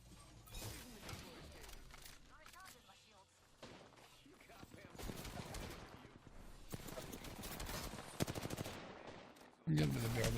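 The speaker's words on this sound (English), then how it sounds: "Oh, someone's shooting." Gunfire in Apex Legends, a mix of rapid automatic bursts and single shots with crashing impacts, moderately loud, under a player's talking voice.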